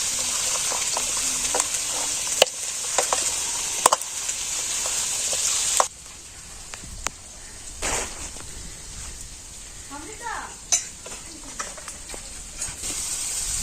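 Potatoes frying in a pan for a village-style chicken curry, a soft sizzle with stirring clatter and scrapes, sharp utensil knocks, the frying fading quieter partway through, no talking.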